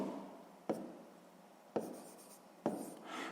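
A pen scratches across paper while working a sixth-grade maths exercise, giving three short, quiet strokes spaced about a second apart. No talking.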